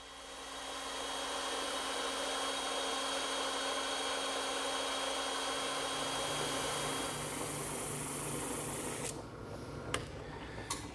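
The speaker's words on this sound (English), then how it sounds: "that's another job for the bandsaw" A bandsaw cuts a curved chair seat rail in a woodworking shop: a steady whirring cutting drone holds for about nine seconds, then stops abruptly, leaving a few faint clunks and handling noises.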